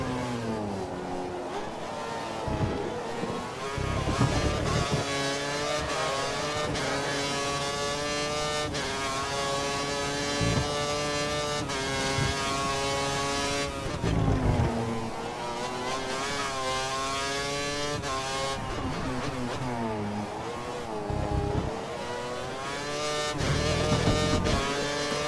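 A race car engine in a lapping session screams loudly throughout a lap, its pitch rising through the gears with sharp dips at each upshift and downshift, and runs steadily with no talk over it.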